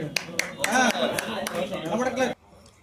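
Scattered claps ring out over someone speaking Telugu at a journalists' gathering, a few sharp hand strikes standing apart at first, then talk continues until it cuts off into near silence.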